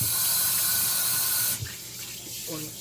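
Running water from a kitchen tap rinsing a cast iron pan, a steady close hiss that shifts and softens partway through as the flow hits the pan.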